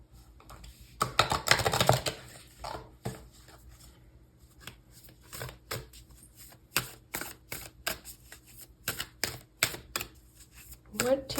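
Tarot cards being shuffled: a quick riffling burst followed by a string of soft taps and snaps, close by, with occasional speech between.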